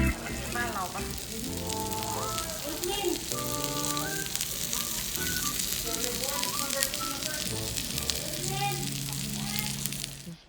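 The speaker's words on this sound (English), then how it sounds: "topped with an egg and brought out to the table still sizzling" Continuous loud sizzling and crackling of sisig frying on a hot plate, topped with an egg, at a Filipino street food restaurant, with voices talking and music-like tones running underneath throughout.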